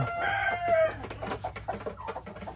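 A brooding hen with newly hatched chicks gives a quick strained call and soft clucks at close range, with faint scattered chirps after it.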